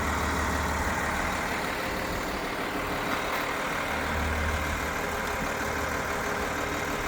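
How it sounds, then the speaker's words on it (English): A 2008 Nova city bus engine, mounted at the side of the rear, idles with a steady low rumble and broad hum that stays constant, heard fairly close without any talk. "So there's the engine on the side."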